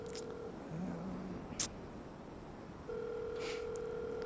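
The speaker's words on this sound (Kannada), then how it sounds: "ಲೌಡ್ ಸ್ಪೀಕರ್ ಹಾಕೋ ಮಚ್ಚ" A phone call rings out over a loudspeaker, with steady electronic ringback tones, a short click partway, then a second tone pattern continuing faintly in a quiet room.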